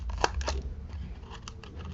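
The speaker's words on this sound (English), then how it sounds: "I forgot I have deckled scissors" Deckle-edge scissors cut through paper with a few soft, crisp snips and rustles, close up and quiet.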